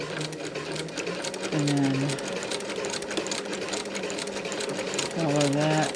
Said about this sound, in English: Continuing, stitching through that tape.